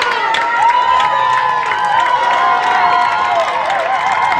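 A home crowd at a Minneapolis high school football game cheers and shouts in a loud, sustained roar, with whistling and yells rising over the stadium noise.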